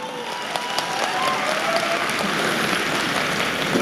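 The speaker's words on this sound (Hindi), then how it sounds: "आज 4-4 हजार लोग इतनी रात को ठंड में स्टेडियम में बैठ के तालियां बजा रहे हैं।" Thousands of people in a stadium at night, out in the cold, applaud together in a dense, steady roar of clapping that holds at full strength throughout, with a faint crowd murmur underneath.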